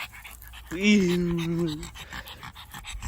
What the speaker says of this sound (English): There you is, little doggy.